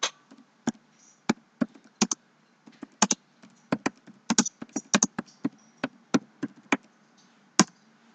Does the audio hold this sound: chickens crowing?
no